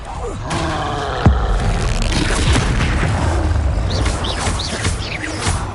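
Confringo fire spell blasts in a wizarding video game: a sharp boom near the start, then rumbling, crackling combat noise with chirping birds in the background, all over steady game ambience.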